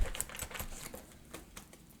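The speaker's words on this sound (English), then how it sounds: "I'm going to shuffle a couple more times." Tarot cards shuffled by hand in a short burst of soft, rapid papery clicks and riffles, close and fairly quiet, with no talking.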